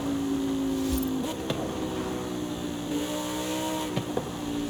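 A steady Lamborghini Huracan engine drone in a racing video game, with a couple of gear shifts and small pops, heard from a distance, no speech.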